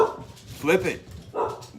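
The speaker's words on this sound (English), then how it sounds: "There goes the dogs. They hear that, buddy. They're crazy dogs." Beagles bark a couple of times nearby, one bark drawn out and howling, with a voice speaking around them.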